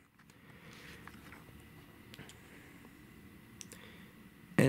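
Small buttons pressed on an ICOM IC-V82 handheld radio make faint scattered clicks over a soft background hiss, ending in a sudden louder knock, with nobody speaking.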